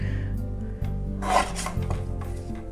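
Card panels are cut down with a paper trimmer, a short rasping slide of the blade across the cardstock heard up close, over a low steady hum in a quiet crafting room.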